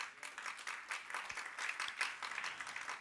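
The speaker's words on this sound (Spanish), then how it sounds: "¿Cuántos le dan palmas al Señor?" A church congregation claps for the Lord during a sermon, a quiet, continuous patter of many hands with scattered louder claps.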